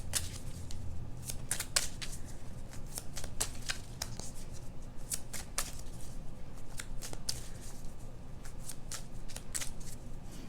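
A deck of slippery angel cards being shuffled by hand, close and quiet, with repeated crisp riffling flicks and card snaps spread across the stretch, no talk.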